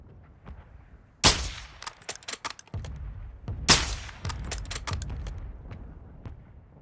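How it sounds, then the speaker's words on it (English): Mortar strike in Call of Duty: Warzone, two sharp loud blasts a couple of seconds apart, each followed by a quick rattle of smaller cracks and debris-like clatter fading into rumble. "Mortar strike inbound now."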